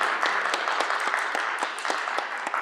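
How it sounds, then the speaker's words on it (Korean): Studio audience applause greets a provincial governor on a Korean New Year's TV talk show, a steady dense wash of many hands clapping with sharp individual claps standing out, continuous and fairly loud throughout. "큰 박수로 안녕해 주십시오"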